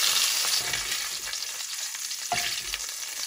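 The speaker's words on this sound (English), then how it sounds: "You have to be very careful because it's got a lot of moisture in the sausages. It sizzles and probably sometimes burns your hand or fingers." Vegan sausages sizzle and fry steadily in a pan with a broad, close hiss, broken by occasional stirring, and no voices are heard.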